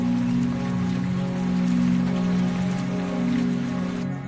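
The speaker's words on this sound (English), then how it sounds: "Rain falls into dining rooms and kitchens." Steady rain falls indoors into the dining rooms and kitchens of abandoned, decaying houses, a dense, even hiss of drops on surfaces with no voices.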